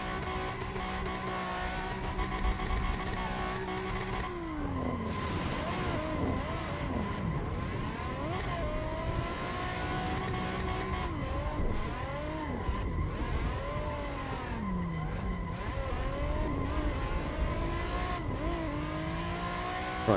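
A Nissan 350Z engine is driven flat out around a race track, loud and close from inside the car, rising and falling through gear changes and braking with rapid revving sweeps across the lap.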